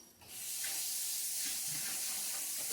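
Running tap water pours over a spoon being rinsed, a steady close hissing rush that starts abruptly and continues with faint clinks.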